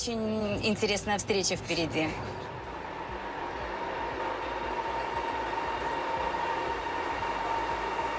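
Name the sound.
Chinese high-speed train Harmony travelling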